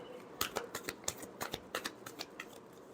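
Tarot cards are shuffled in a quiet room, a quick series of sharp crisp riffles and flicks in close, soft bursts without any talk.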